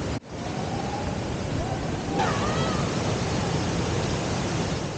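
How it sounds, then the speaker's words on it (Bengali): A waterfall in full monsoon flow roars in a steady, dense wash of noise, loud and close, with no pause from start to finish. "তোমরা ঝর্ণার গর্জন শুনতে পাচ্ছ"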